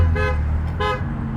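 Two short car horn toots from dollar cabs, a brief pause between them, sound close by over a low engine rumble.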